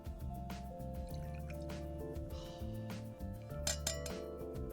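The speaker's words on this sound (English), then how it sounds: "I'm gonna do this right by the mic so we can get a little gin waterfall." Gin poured close to a microphone into a glass or cup: soft liquid trickling and dripping with small clinks of glassware over a steady low musical background.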